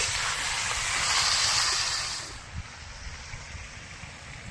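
Chicken pieces fry in a pan, giving a loud, close sizzling hiss over the first half that softens to a quieter crackle with a few small pops toward the end.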